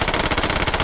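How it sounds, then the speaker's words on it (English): Rapid automatic gunfire in a tactical shooter game, a dense, loud string of shots firing continuously with no pauses for under a second. "Daruba takes another shot there"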